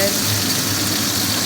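Garlic sautéing in hot oil in a pan while a Filipino dish of green beans is being cooked, giving a loud, steady, close sizzle with no break.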